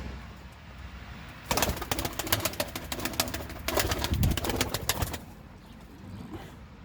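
Several tumbler pigeons calling and fluttering close by, a dense burst of coos and wing flaps lasting a few seconds before settling back to quiet background noise.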